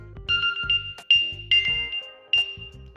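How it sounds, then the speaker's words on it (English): A Samsung Galaxy phone plays a ringtone set off from a Galaxy Watch find-phone button. It is a bright, chiming melody of repeated tonal notes over a low rhythmic beat, clear and close, with no talking. "Click on it and a ringtone on your phone will go off."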